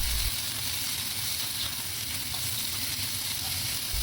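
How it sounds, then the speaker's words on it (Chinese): Green peppers stir-fried in a wok with scallion, ginger and garlic give a loud, steady sizzle with a faint scrape of stirring running throughout, no voices. "另起锅炒青椒， 加入葱姜蒜， 青椒断生即可，别炒软它。"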